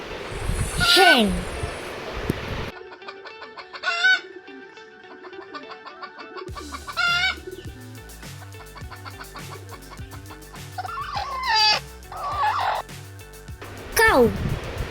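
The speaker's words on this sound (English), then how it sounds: "Hen," A hen clucks in quick repeated bursts, close and distinct, with a few sharper squawks scattered between the steady clucking.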